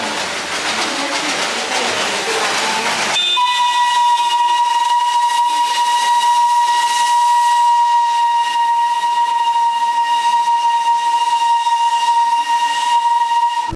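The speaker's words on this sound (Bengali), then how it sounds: "দেখা মিলল সেই ঐতিহ্যবাহী পুরনো কয়লা চালিত টয় ট্রেন" The old coal-powered Darjeeling toy train gives a long steam whistle, loud and steady. A burst of hissing steam comes first and the sustained tone then holds for around ten seconds.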